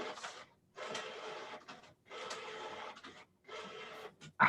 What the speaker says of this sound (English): I can hear the printer.